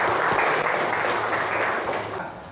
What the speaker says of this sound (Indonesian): Tepuk tangan dong buat Fadila.